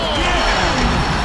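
An alley-oop dunk slammed home in a basketball video game, a loud hard impact over a dense crowd roar with commentary-style voices talking throughout.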